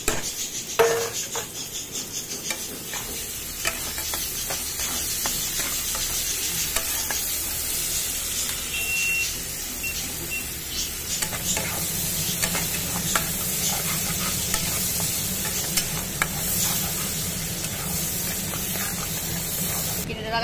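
Chopped onion frying in mustard oil, a steady hiss of sizzling that thickens partway through, with occasional stirring scrapes and clinks throughout.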